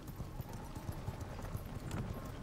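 Horse hooves clip-clop steadily in the V Rising video game, faint and rhythmic under a soft ambient backdrop.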